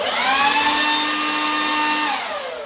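DeWalt 20V cordless leaf blower running at close range, a loud steady whine with a strong airflow rush that holds level and then starts to spin down at the end.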